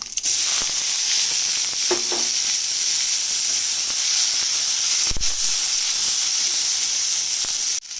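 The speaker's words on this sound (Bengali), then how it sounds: "কড়াতে তেল গরম হয়ে গেছে দিয়ে দেবো গোটা জিরে দিয়ে দেবো তেজপাতা" Whole cumin and bay leaves dropped into hot oil in a wok, a loud continuous hissing sizzle close up, with a couple of brief knocks and a short scrape partway through.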